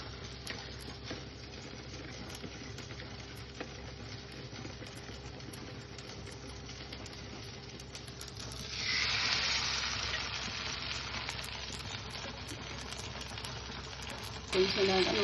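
Pumpkin flowers fry in a little oil on a flat pan, giving a soft steady sizzle that turns into a louder, fuller hiss partway through, with a sharp crackle near the end.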